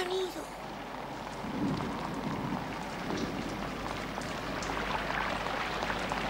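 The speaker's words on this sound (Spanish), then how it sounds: "¡Ay, ay, cómo llueve!" Heavy rain pours steadily in a dense, hissing wash on an animated cartoon soundtrack, loud and continuous throughout, with faint voices occasionally beneath it.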